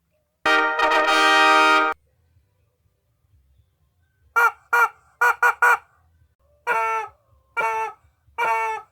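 Chicken squawking loudly and close, a long harsh call followed after a pause by a rapid burst of short clucks and then several separate squawks in a loose rhythm.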